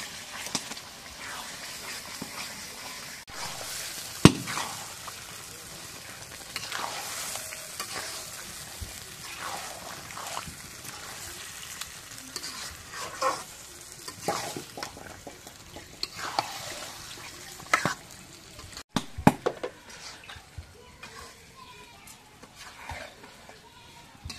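Meat stirred into a cooked-down spice paste in a home kitchen pan, soft continuous frying sizzle with intermittent scraping stirs and occasional sharper knocks, fairly quiet and without talk.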